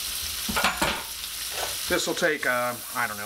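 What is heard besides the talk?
onions frying in a pan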